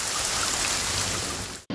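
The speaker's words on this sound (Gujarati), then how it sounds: "વહેલી સવારથી જ રાજ્યમાં અનેક વિસ્તારોમાં વરસાદી માહોલ જામ્યો છે" Rain falls across parts of Gujarat early in the morning, a steady broadband hiss of drops on surfaces that cuts off abruptly near the end, with no voices.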